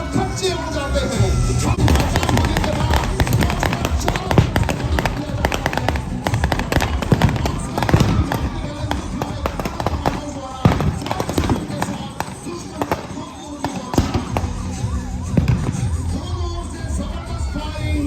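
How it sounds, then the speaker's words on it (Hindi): A commando demonstration at a CISF Raising Day parade in Hakimpet, Hyderabad, where an explosive-laden vehicle is blown up; loud dense blasts and crackling bangs continue over a cheering crowd and a public-address commentator. "भयानक विस्फोट से गाड़ी के परखच्चे उड़ जाते हैं"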